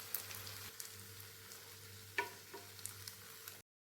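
A spice mixture for egg-potato dhoka spread and frying in a kadai, giving a low steady sizzle with a low hum beneath and a couple of small sharp clicks, then cutting to silence.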